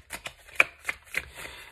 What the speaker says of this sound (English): I'll go ahead and put them back in and continue shuffling